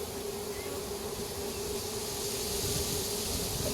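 A swarm of bees hums in a dense, continuous drone, steady and close with no breaks, filling the air evenly throughout.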